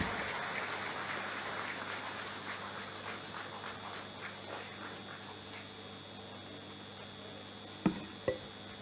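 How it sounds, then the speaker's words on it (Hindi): A crowd claps to welcome the Chief Minister at a public event, with scattered distant applause that thins out and fades, followed by two sharp knocks near the end. "जोरदार तालियों से स्वागत करें माननीय मुख्यमंत्री जी का"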